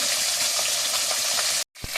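Magur catfish frying in a pan of hot oil, a steady close sizzle filling the scene before a brief silent gap and a small clatter near the end.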